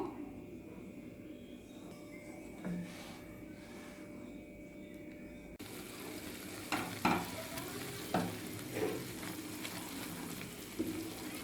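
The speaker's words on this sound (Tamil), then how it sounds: "நம்ம பார்த்திங்கன்னா கைவிடாமல் கலந்துகிட்டே இருக்கோம்" Full-fat milk stirred continuously with a ladle in a pan for milk peda, a low bubbling simmer under soft repeated scrapes and taps of the spoon against the metal, fairly quiet and close.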